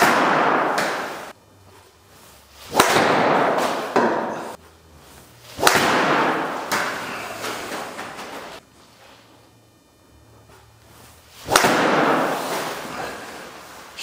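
Driver shots hit a practice target as a few loud, sharp cracks several seconds apart, each with a brief ringing tail over a steady background hiss.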